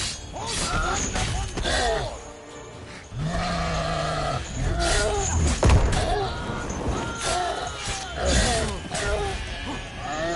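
Sheep bleat repeatedly in The Witcher 3, their wavering cries over game noise and crashes, with a voice talking in between.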